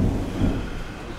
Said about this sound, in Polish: Deszczyk pada, piorun bije.